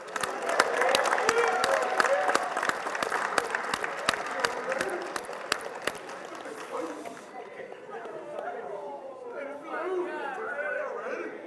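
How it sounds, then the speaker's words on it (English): Audience applause for a high school football player at the Dublin High School Football Awards Ceremony, a dense burst of clapping for about six seconds that fades into crowd chatter and voices. "When he walks up here, give him a big round of applause."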